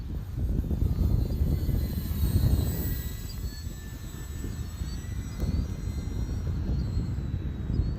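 An Arrows RC Bearcat model airplane takes off slowly without flaps, its electric motor a steady whining drone over outdoor wind rumble, holding at a fairly constant level throughout with no voices.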